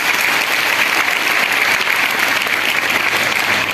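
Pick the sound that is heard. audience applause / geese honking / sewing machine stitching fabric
audience applause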